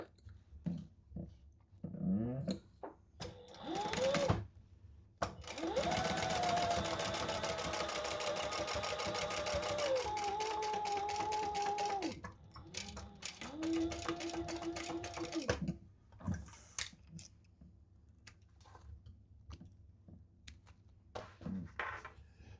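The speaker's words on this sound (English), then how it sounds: "we're going to top stitch on these side pieces" A sewing machine top stitches thick leopard-print and gray fabric side pieces of a zip-around travel wallet, running in several steady bursts of a few seconds each with short pauses between, close and clear, with no talking.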